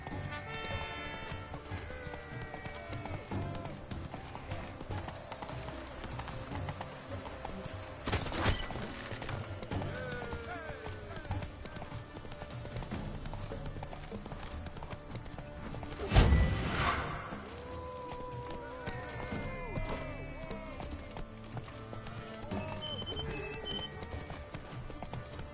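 Roach, a horse in The Witcher 3 video game, runs with steady hoofbeats throughout, mixed with game music and a couple of louder thumps; faint talk is heard now and then.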